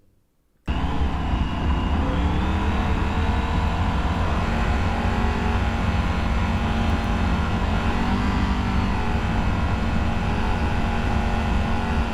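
A Triumph Tiger 900 motorcycle out on the road gives a steady, loud engine and wind roar that starts abruptly after a brief silence and holds without a break to the end.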